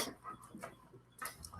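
A dog pants softly in quick, breathy bursts with faint whimpering whines, close and quiet, broken by short gaps.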